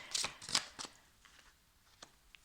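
Tarot cards shuffled by hand before a reading, giving a few quick, crisp riffling bursts near the start followed by fainter scattered card taps in a quiet room.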